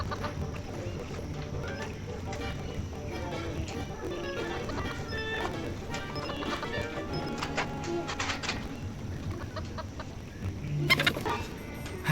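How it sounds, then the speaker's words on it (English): A chicken in the video game Foolish Mortals clucks repeatedly in short irregular bursts over a low ambient game soundscape, fairly close and clear, with a louder flurry near the end. "it attracted the attention of a curious chicken."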